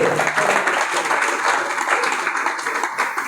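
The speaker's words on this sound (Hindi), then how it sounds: "अगर होने चाहिए तो ताली बजा दो।" Audience members at an anti-drug awareness program clap in a brief, even wash of applause that holds steady at moderate loudness throughout.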